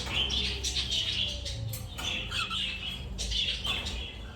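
Pet cockatiels kept in a home breeding setup, a cock and a hen, squawk in repeated harsh bursts at close range, with faint rustling and flapping in the background and no talking.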